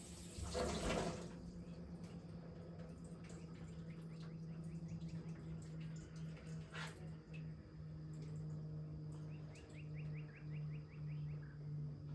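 Tap water runs steadily into a kitchen sink while a whole cleaned chicken is rinsed under it, with a low continuous hum and faint splashing and occasional higher clinks throughout.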